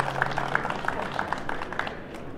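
Applause from a ceremony audience honoring newly named officers: a steady, fairly quiet wash of scattered clapping with a faint hum beneath, continuing throughout without pause.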